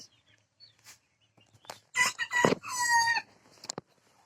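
Chickens cluck outdoors while a rooster crows loudly up close, a harmonic crow lasting about a second after a few scattered clucks in an otherwise quiet yard.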